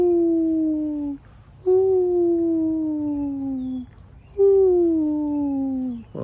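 Dogs howling in long, sliding mournful tones, three drawn-out howls in a row, close and clear with short pauses between.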